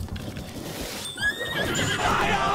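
Horse in Zelda: Breath of the Wild whinnies loudly with a rising, wavering neigh midway, over faint hoof clip-clops and game background noise.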